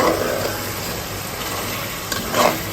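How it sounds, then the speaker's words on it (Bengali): Pointed gourd (potol) pieces frying in oil with turmeric and salt, giving a steady soft sizzle with occasional stirring scrapes throughout. "একটা একটা করে হচ্ছে সবগুলো ফ্রাই করে নিচ্ছি"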